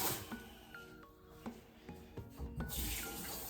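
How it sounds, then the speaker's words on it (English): Water runs from a kitchen tap during handwashing after preparing salmon, a steady hiss and splash with faint clinks and rubbing sounds over it, getting louder toward the end. "Wash my hands."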